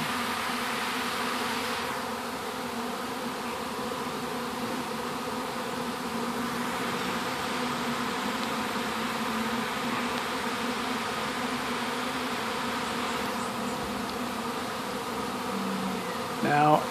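Bees buzz steadily near a screen door at the edge of a bedroom, a dense continuous insect drone, close and fairly loud, with a faint bump right at the end.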